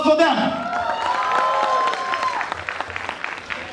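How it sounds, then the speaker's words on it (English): An audience at a college event applauds, a dense burst of clapping with a few cheers and whoops. It begins under a trailing voice and patters out toward the end. "Please give a big round of applause for them."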